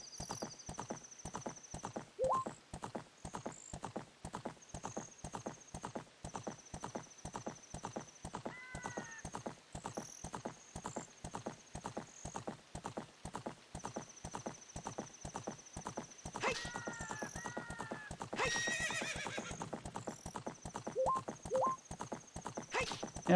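Rapid, steady hoofbeat clip-clop of a horse galloping in The Legend of Zelda: Ocarina of Time on N64, running throughout with a couple of whinnies and chimes mixed in, loud and continuous.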